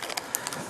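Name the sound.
breaking the plastic seal on a Life Water bottle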